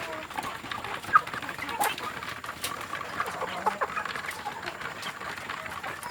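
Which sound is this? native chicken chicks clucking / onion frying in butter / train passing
native chicken chicks clucking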